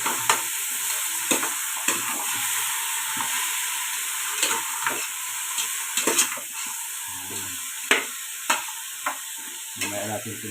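Sliced pork pata drops into a hot pot and sizzles steadily while being stirred, with a continuous close hiss broken by repeated scraping and clacking strokes of the spoon against the pot.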